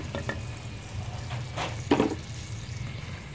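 Colourful prawn crackers fry in hot oil, giving a steady sizzle with a few clinks and stirring sounds from a pan or utensil, heard close up without speech.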